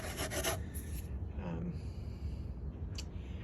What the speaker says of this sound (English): I'm gonna do a lot of sanding to it now